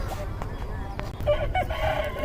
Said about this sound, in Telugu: ఇక్కడ చాలా కోళ్ళు అనేవి కట్టేసి ఉన్నాయి